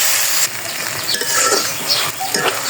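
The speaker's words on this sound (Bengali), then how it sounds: "পেস্টটা দিয়ে দেবো। নাড়াচাড়া করতে থাকবো।" Spice paste sizzles loudly in a frying pan while a spatula stirs it, with brief scraping strokes over a continuous hiss, close up and without speech.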